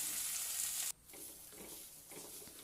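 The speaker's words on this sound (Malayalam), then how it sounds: "അപ്പോൾ എണ്ണയിൽ തന്നെ ഒന്ന് ഫ്രൈ ആയി വരണം" Okra and onion fry in oil: a bright, hissing sizzle drops suddenly to a quieter, gentler crackle that continues steadily, close and alone.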